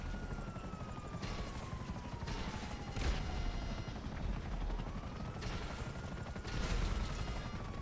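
A helicopter fires rockets in GTA V: a steady rotor drone underlies repeated bursts of rapid firing and blasts, fairly loud and continuous throughout.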